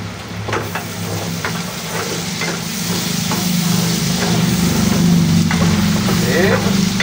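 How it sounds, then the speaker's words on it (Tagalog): Food sizzles and hisses in a pan as it is stir-fried after oyster sauce goes in, the spatula scraping in irregular strokes over a steady frying crackle, close and fairly loud. "At haluin po natin."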